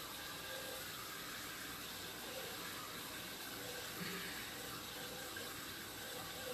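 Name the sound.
water trickling through an underground pipe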